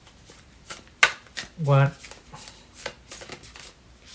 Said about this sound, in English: let's give it another good shuffle here